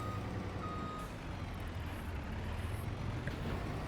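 A truck in a farming video game reverses with a steady series of evenly spaced electronic beeps over a low engine rumble, heard alone at moderate level.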